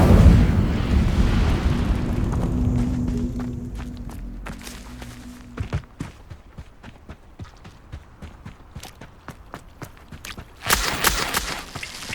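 An Incendio fire spell in Hogwarts Legacy erupts as a loud, rushing roar of flame that fades over several seconds, followed by clattering footsteps and scattered knocks.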